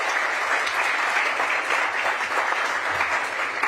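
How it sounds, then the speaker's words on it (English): Audience applause at a mayor's news conference, a brief, steady patter of many hands clapping together with no voices over it. "you can applaud for that."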